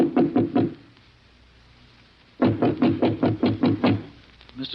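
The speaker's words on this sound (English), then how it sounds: "Then, squaring his shoulders, he knocked." Knuckles rap on a door in two bursts, first four quick knocks, then a pause, then a longer run of about eight firm, close, evenly spaced knocks, with no talking.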